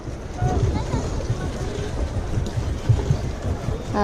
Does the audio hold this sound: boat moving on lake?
yes